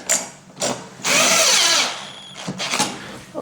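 Power drill driving screws into a shoe rack bench, short whirring bursts with one long sustained run in the middle and brief spurts after, loud and close, no talk.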